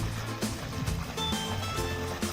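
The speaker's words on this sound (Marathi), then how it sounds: "पाणी चालू आहे." Irrigation water runs into a freshly planted onion field with a steady, close rushing flow and a low background hum.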